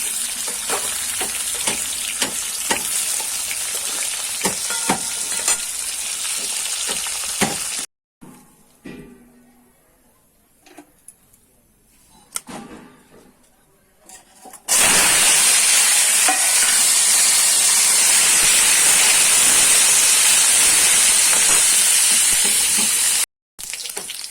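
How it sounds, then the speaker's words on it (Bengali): Cauliflower and potato frying in oil in a wok make a loud, continuous sizzle with stirring. The sizzle drops out for a stretch in the middle, then returns strongly. "ফুলকপিটা ভাজা হয়ে গেছে একদম লাল লাল করে সুন্দরভাবে"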